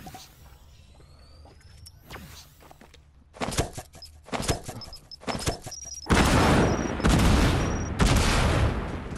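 Gunfire and explosions in a shooter video game: sparse sharp bursts at first, then dense, loud, continuous roaring blasts and rapid fire that fill the second half, with faint tonal game effects overhead.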